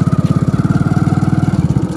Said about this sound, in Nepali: ओए टायर चिप्लिरहेछ यार धुलोमा